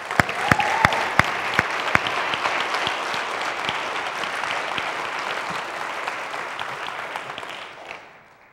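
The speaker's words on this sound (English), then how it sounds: "I just want us to give each of us a round of applause for the wonderful work that you have done during this time." Church congregation applauding during a service, a steady wash of many hands clapping with a few louder near claps at the start, holding for several seconds before fading out.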